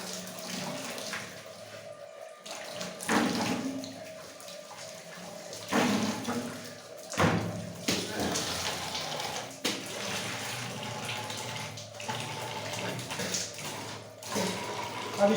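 Water runs and splashes steadily as hair is rinsed, a continuous close wash with uneven surges and drips, and nobody talks.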